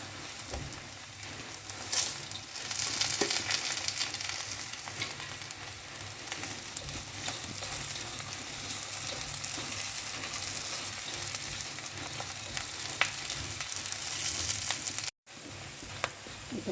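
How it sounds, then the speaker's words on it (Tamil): Six or seven onions sautéing in foamy oil with dried chillies and curry leaves, giving a soft, continuous sizzle and crackle with occasional stirring scrapes and no one speaking. "ஒரு 6-7 வெங்காயம் வரைக்கும் நான் அடிச்சிருக்கேன். இப்போ இது நல்லா வதங்கட்டும்."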